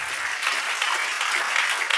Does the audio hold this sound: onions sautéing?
no